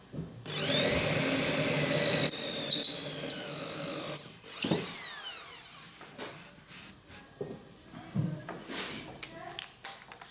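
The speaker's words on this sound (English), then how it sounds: "I'm going to use the biggest drill bit I've got." Power drill with a large bit boring into an aerated concrete block, a loud whining spin for about four seconds, then a shorter burst, followed by scraping, handling clatter and a person talking.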